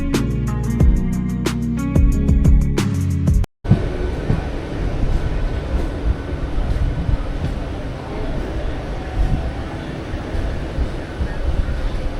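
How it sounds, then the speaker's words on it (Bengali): Passenger train rolling through rural West Bengal after departing Heria station, a steady broadband rumble of wheels and carriage noise that fills the whole clip after a brief opening burst of music. "চলুন ট্রেন ছাড়ার সময় হয়ে গেছে, তাহলে ট্রেনে উঠে পড়ি।"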